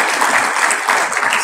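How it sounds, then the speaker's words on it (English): Dense, steady audience applause for a Daf Yomi class celebrating over 700 people starting Masechta Sotah, a continuous wash of many hands clapping close and loud throughout. "So big round of applause for anybody that's starting."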